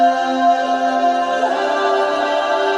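Sustained layered voices, eight tracks, sing a held chord together, a smooth choral pad that swells and shifts pitch midway, with no speech.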